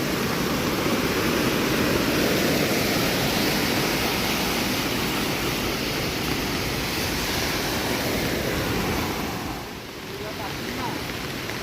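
Heavy monsoon rain in Konkan pours down as a dense, loud, continuous hiss that dips briefly near the end, with voices talking underneath.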